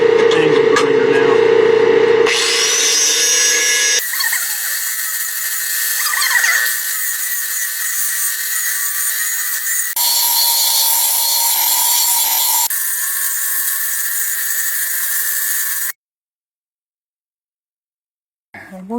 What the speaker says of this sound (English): Let me see what we can do with this angle grinder now.